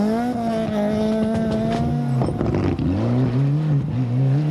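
A Honda rally car races along a stage at the 1995 Ulster Rally, its engine whining loudly and close, dropping in pitch through a gear change and then climbing again as it pulls away.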